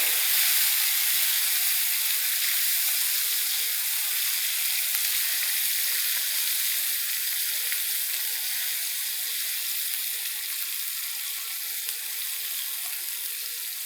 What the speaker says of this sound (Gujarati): જો વઘાર આવે છે એટલે તમે હિંગની એકદમ જ સુગંધ સરસ આવશે